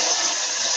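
Cold water runs steadily from a kitchen tap over chopped onion, a continuous close hiss of flow with no talking.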